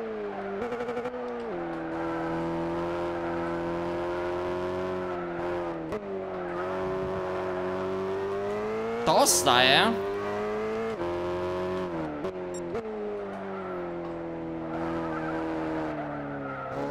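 A Lexus race car in Gran Turismo 7 holds a loud, steady engine drone with shifting revs and a sharp burst of tire squeal partway through, while someone talks over it at times.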